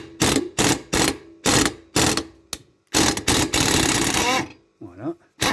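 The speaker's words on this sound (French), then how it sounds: "Donc clé à choc" An impact wrench with a 17 mm socket loosens the blade bolt on a lawn mower, firing in loud, close rattling bursts separated by short pauses, with a brief voice near the end.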